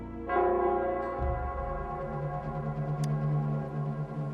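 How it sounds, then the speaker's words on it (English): City bell of Nell Square in the video game Wuthering Waves, a single deep resonant strike that blooms and hangs in a long humming decay, loud and alone. "It's the Nell Squares bell."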